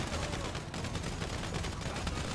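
Sustained gunfire in GTA Online during a chaotic fight, dense rapid shots forming a continuous crackling barrage from start to end.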